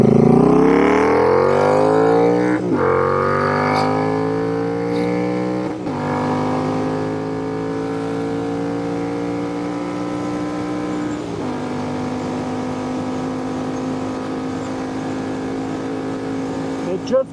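A Royal Enfield Interceptor motorcycle fitted with an S&S cam and Revelry Racing intake accelerates hard, its exhaust climbing in pitch through several gear changes, loud and close, with a voice speaking over it.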